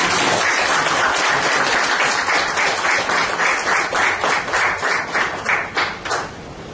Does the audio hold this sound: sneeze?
no